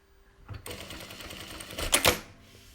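A JACK industrial sewing machine runs a quick burst of back-and-forth end tack stitches, a close rapid mechanical clatter lasting over a second, ending in a sharp snap as the thread trimmer cuts.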